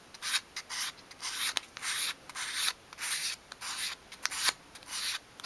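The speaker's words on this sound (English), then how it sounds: "So I'm just sort of holding the sandpaper at a slight angle as I go along, and that then really tidies it up." Sandpaper rubs along the wooden corner of a 1/12-scale dollhouse high-back kitchen bench, rounding the edge in a steady series of short, close, soft scratchy strokes with brief pauses between them.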